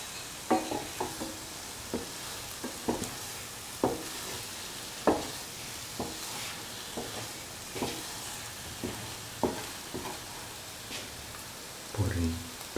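Paneer pieces are stirred into a cashew stew mixture in a pan, with repeated scraping and sloshing strokes at an uneven rhythm over a soft sizzle, close and moderately loud.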